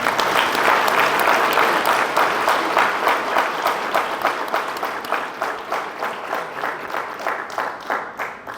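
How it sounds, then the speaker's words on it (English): A graduation audience at a high school ceremony applauds its educators, a dense burst of clapping that thins over several seconds into fewer, more distinct claps. "Let's please give them a round of applause."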